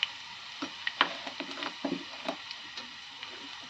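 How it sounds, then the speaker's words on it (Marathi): Ground masala paste sautéing in oil in a pan with garlic, a faint sizzle broken by scattered light ticks and clicks of stirring, close and quiet, with no talking. "तेल सुटेपर्यंत छान परतून घेतलं त्याला"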